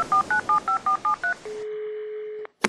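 A telephone number is dialed with a rapid run of about seven touch-tone beeps, followed by a steady ringback tone and then a click, all close and clear with no voices.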